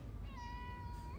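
A cat gives a single drawn-out meow, quiet and somewhat distant, over low outdoor background noise in a garden allotment plot.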